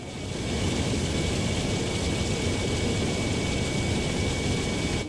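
Jet engines of a British Airways A350 on its takeoff roll in Microsoft Flight Simulator 2024: a steady, loud, broadband roar that swells in over the first half second and holds, with no talk.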